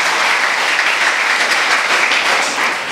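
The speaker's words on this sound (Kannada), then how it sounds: "ಚಪ್ಪಾಳೆ ಬಲ್ಲಿ ಮಮತಾ ಪೂಜಾರಿಗೋಸ್ಕರ." Dense, steady applause from a large audience at a Kannada student program in Hebri, loud and continuous throughout with no talking over it.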